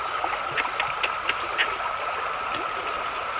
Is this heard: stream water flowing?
yes